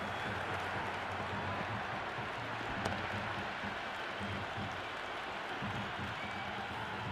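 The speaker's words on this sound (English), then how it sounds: "The crowd is electric right now." Crowd at a Pakistan vs Australia T20 cricket match applauding after a boundary, a steady moderate roar of clapping and cheering throughout, heard from a distance without clear talk.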